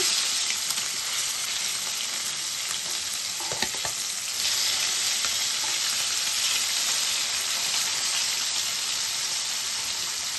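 Fish pieces fry in a pan with little oil over a low flame, giving a continuous dense sizzle and crackle with a few brief stirring or turning clatters; no talking.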